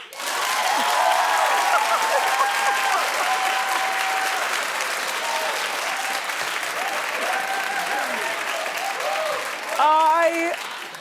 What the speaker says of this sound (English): Clap if you don't believe her